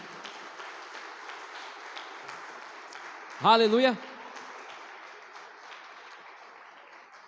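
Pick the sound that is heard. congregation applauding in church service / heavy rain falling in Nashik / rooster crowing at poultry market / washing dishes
congregation applauding in church service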